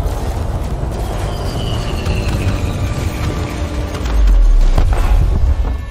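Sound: spaceship explosions in Elite Dangerous video game

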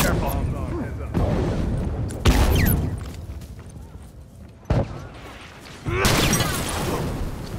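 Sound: bomb explosions and gunfire from a video game

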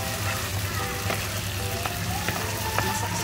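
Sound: frying shrimp paste for eggplant sambal

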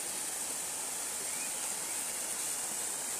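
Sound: waterfall near a house

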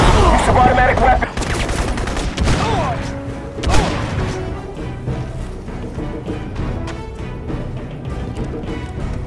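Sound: automatic weapon gunfire in a video game

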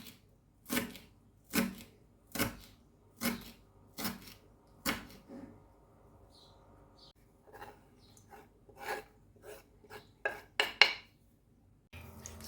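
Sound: finely chopping dill

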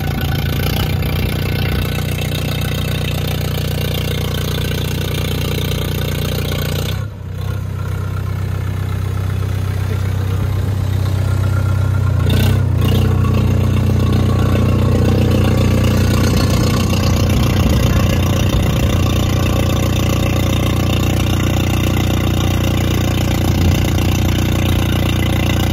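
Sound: Mahindra 585 XP Plus tractor engine and silencer sound

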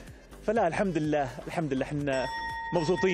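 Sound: bell ringing to call in the next players

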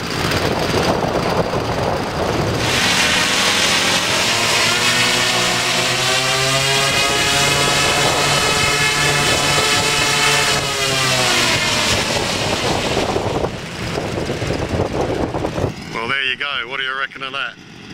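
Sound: four engines of a giant scale Super Constellation model airplane

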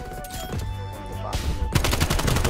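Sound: shotgun gunfire in video game Black Ops Cold War

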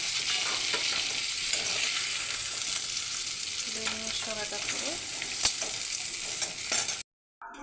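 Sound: crabs frying in a pan

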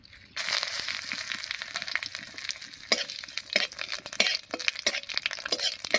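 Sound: cumin, dried chilli and bay leaf tempering frying in hot oil

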